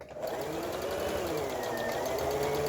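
A Brother Besta sewing machine runs steadily with the pedal pressed, giving a continuous close mechanical whir with fast rhythmic stitching ticks throughout and no speech.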